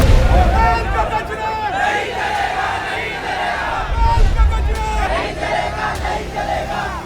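Thousands of protesters fill a street in Pithampur, near Indore, shouting slogans together in loud, surging chants with overlapping yells and a dense crowd roar that swells and dips.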